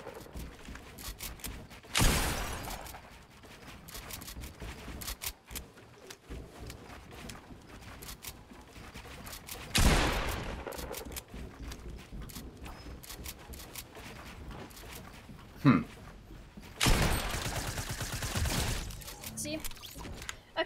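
Three short bursts of gunfire from the Fortnite video game come several seconds apart, loud and crackling over busy game sounds, with a person talking throughout.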